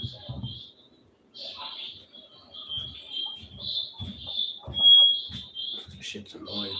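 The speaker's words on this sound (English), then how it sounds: "It's lucky for the stupid ass smoke alarm sounds that's" Smoke alarm chirping repeatedly at a steady high pitch, moderately loud, running beneath someone talking close by.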